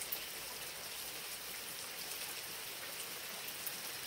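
Steady warm tropical rain pours in a constant, uniform patter, close and moderately soft, with faint trickling water beneath and no talk.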